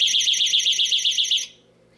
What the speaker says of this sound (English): a 100 decibel siren will sound for 30 seconds